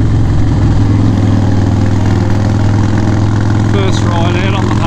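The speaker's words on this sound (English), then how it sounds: "First ride out on the Harley, on the trike from here." A Harley-Davidson trike's engine runs steadily at low idle, a deep continuous rumble that fills the whole stretch, with a faint higher whine near the end.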